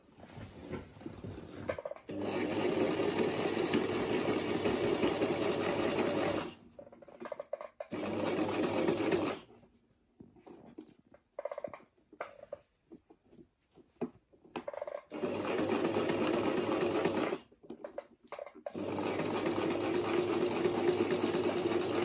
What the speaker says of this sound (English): I'm going to sew the second one as well.